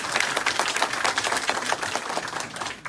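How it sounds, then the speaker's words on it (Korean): Church audience applauding at a pastor's inauguration service as he is introduced, a dense, steady patter of many hands clapping at an even level throughout, moderately near, with no talking over it. "박수 한번 쳐주시죠."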